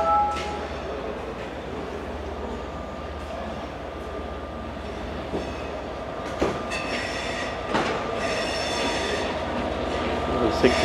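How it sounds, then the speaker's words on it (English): An Arriva Trains Wales passenger train rumbles steadily into a station in South Wales with occasional clicks and squealing wheels rising toward the end, heard from the platform. "Here comes my train to the 8:10 ARRIVA Trains Wales Premier Service to Cardiff Central."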